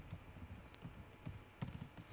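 Quiet, sparse clicks of fingers typing on a computer keyboard during a software tutorial, irregular taps spread across a couple of seconds with a faint background hum.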